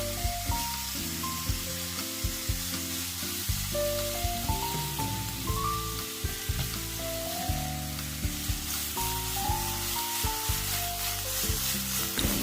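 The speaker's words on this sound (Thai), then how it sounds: "เสร็จแล้วเราก็ผัดเนี่ยค่ะ จนหมูเข้ากัน" Continuous sizzling as pork with garlic is stir-fried in a hot pan, with soft scraping stirs over a steady hiss and a musical backing, no talking.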